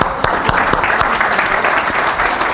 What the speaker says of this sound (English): Ian, give him a round of applause.